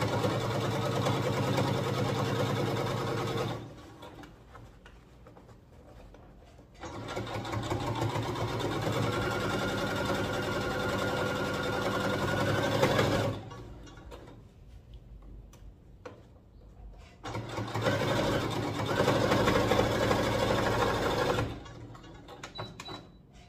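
A sewing machine stitches a puffed-sleeve pet dress, running in three steady motorized bursts of several seconds each with short quiet pauses between them.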